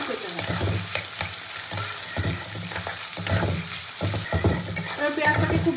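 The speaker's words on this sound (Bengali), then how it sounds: "এবার পেঁয়াজটা দিয়ে দেবো তেলের মধ্যে, আমি কুচনো পেঁয়াজটা।" Chopped onions frying in oil for a mutton curry, a loud close sizzle broken by stirring scrapes and bumps of a utensil in the pan, no voices.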